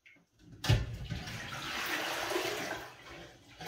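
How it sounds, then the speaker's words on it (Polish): Water is poured into two cooking pots for boiling green mushrooms, a close, gushing splash that starts sharply and continues as a steady rushing stream before tapering off, with no talk. "Teraz tu wodę naliwałem."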